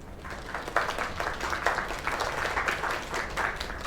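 Applause from an in-game audience in the video game Lake, a steady patter of many hands lasting several seconds at moderate volume with no voices over it.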